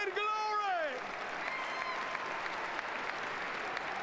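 A crowd at a church service breaks into sustained applause, a dense, even wash of clapping that follows a brief sung or shouted voice at the start.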